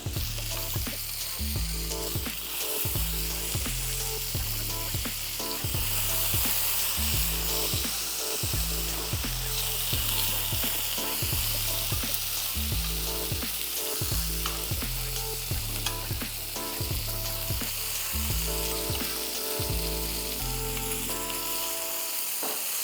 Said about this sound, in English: we're going to be adding the carrots actually into this pan